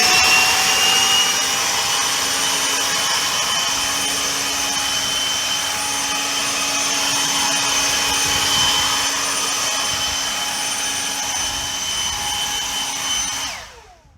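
DEWALT 60 volt cordless leaf blower (DCBL772X1) clearing leaves, a loud continuous high whine and rushing airflow held steady for about thirteen seconds before winding down abruptly at the end.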